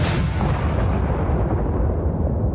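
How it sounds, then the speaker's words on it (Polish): German artillery fire with shell explosions: a loud, continuous rumbling roar of heavy blasts, dense and booming throughout. "W tym czasie niemiecka artyleria coraz celniej kładła ogień na polskie pozycje."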